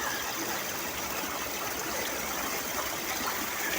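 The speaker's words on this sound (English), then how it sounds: "This little waterfall area." A small waterfall in a park ravine, a steady broad rushing wash of falling water heard close and continuous, with no voices.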